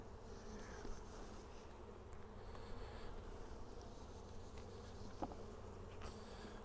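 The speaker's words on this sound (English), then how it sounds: "Not a whole lot of bees in here." A weak Kentucky honey bee hive holds only a few scattered bees, giving a soft, continuous low buzz that stays faint and even, with occasional light clicks from handling the frames.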